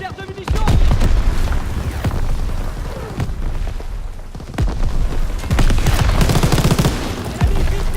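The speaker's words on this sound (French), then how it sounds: "Daniel, tire les réserves de munitions!" Gunfire and explosions ring out in Call of Duty WWII as ammunition reserves are shot: loud repeated bursts and booming blasts across the whole stretch, with a voice briefly heard among them.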